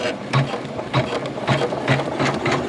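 A Janome MC9900 sewing machine stitches a quilt in the hoop, running with a steady mechanical whir and regular rhythmic thumps about every half second, close up.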